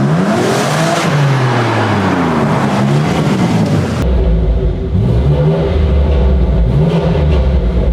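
A BMW M3 Touring's exhaust revs hard and loud, its pitch sweeping up and down with crackling pops and bangs mixed in, then an abrupt cut to a lower, rumbling run of revving.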